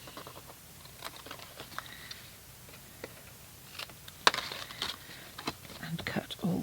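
Paper for a 3D treat holder craft being cut with quiet, irregular snips and ticks, close by, with soft whispered talk over it and some rustling.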